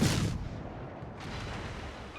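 Naval gunfire in World of Warships around the Tier VII American cruiser USS Helena: one loud, heavy boom opens, decaying into a low rumble before a second, softer swell of shell impacts.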